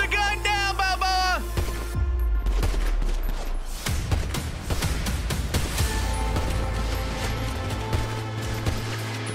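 Gunfire from a GTA roleplay police shootout erupts in a dense, loud burst of rapid shots with crashing impacts, after a brief shouting voice at the start, then tapers into scattered reports over a low rumble.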